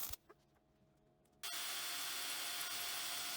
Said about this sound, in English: I then drill and tap 4 holes to hold that piece on.